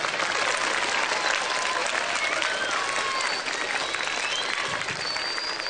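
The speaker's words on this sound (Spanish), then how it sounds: "quiero otro aplauso para ustedes mismos" Teachers at a Faro school event give themselves a round of applause, a dense, even wash of clapping that holds steady throughout with faint crowd murmur beneath.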